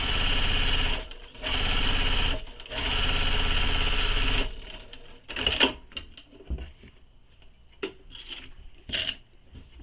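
Sewing machine stitching a handbag seam, running in two steady loud bursts with a short pause between, then stopping for scattered clicks and handling noises.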